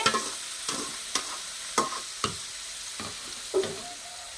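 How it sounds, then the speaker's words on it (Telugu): A hot tempering gets stirred into broad bean chutney, with a faint background sizzle broken by a series of sharp scraping and clinking strokes from a spoon in the pan at an uneven pace, close and alone. "తాలింపు పెట్టింది అయితే పచ్చడిలో కలిపేసుకుంటున్నానండి."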